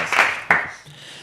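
Brief burst of applause in a small room, two short loud bursts of clapping that fade quickly into quiet.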